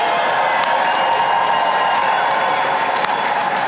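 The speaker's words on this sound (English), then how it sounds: "Can I get a cheer for that?" A crowd at a nonpublic school student rally cheers and applauds: a dense, loud, sustained roar of clapping and shouting that stays steady throughout.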